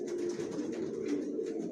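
Young racer pigeons coo softly and continuously, a low throaty rolling murmur at a quiet, even level with no voices.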